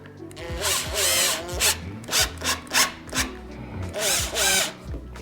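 A power drill driving drywall screws into a wooden filler piece while fitting a downlight: repeated whirring bursts, each rising in pitch, come in close succession, loud and near, with no one talking.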